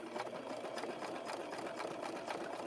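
A sewing machine runs steadily and close by, stitching coiled rope together to form a rope basket, with a continuous whirring drone and a rapid needle rhythm and no talk over it.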